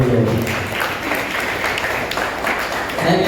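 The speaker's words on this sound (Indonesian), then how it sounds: "Tepuk tangan buat kita semua dulu." Audience applause during a tourism guiding seminar at a vocational high school, a steady, dense wash of clapping that fills the whole stretch at even loudness, with a voice briefly audible near the start and end.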